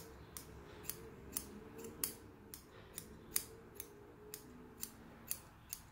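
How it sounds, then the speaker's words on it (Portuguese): Scissors snip steadily around a yarn pompom being trimmed, about a dozen crisp, close cuts at a regular pace, quiet and alone with no talk. "Então, ó, agora é a hora de aparar."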